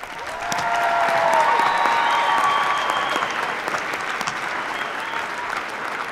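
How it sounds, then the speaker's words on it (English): A commencement crowd at Oregon Tech applauds its graduates in a long, dense wash of clapping that swells early and holds steady, with faint voices and a few tonal whistles or cheers threaded through. "applause"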